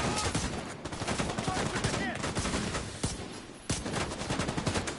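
Rapid gunfire from The Division 2, a dense fusillade of loud overlapping shots in sustained bursts with a few sharper single cracks standing out.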